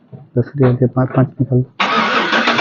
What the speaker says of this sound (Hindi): लेकर के गाड़ी स्टार्ट है